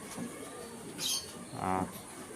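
A male Jiria breed pigeon gives a short, soft coo up close, a brief low burst near the end of a quiet stretch.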